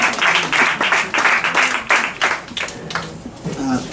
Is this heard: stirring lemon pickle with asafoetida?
no